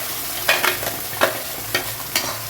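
Ground masala paste frying in oil in a pan for a Tamil-style brinjal curry, heard as a soft continuous sizzle broken by several sharp stirring scrapes, close and alone with no talk.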